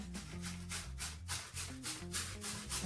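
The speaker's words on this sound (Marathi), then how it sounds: "बटाटे चिरायचं झालंय आता किसणीने किसून घ्यायचे" Potatoes scraped over a small hand grater in a steady back-and-forth rhythm of soft rasping strokes, close and quiet, with no voices.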